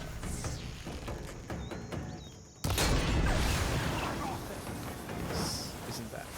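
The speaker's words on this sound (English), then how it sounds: "We'll see if we can blow up this guy's backpack." An enemy's backpack explodes in Horizon Forbidden West: a sudden loud blast breaks in midway and rolls into a sustained roar of debris and rumble over steady game ambience, with a voice talking through it.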